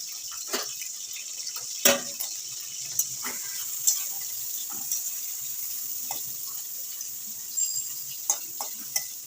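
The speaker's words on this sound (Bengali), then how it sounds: "মাছটা প্রথমে ভেজে নিতে হবে" Salted fish frying in hot oil in a home kitchen, a soft steady sizzle with occasional sharper pops and spits scattered throughout, fairly quiet and close, with no talking.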